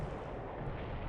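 A deep, rumbling explosion from a torpedo striking the warship Sumatra in the naval war game War in the Pacific, a single dense boom filling the short moment alone, without speech.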